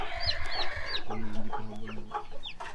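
Shamo hens clucking and calling in a poultry pen, a run of short, close clucks and rising squawks over steady farmyard background noise, with no talking.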